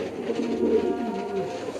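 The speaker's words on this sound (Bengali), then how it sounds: "কিংগুলার একটু করে ডাক দেখেন, হেভি ডাক দেয়" King pigeons at a pigeon market cooing steadily in a low, rolling chorus, several birds calling close by with no talk.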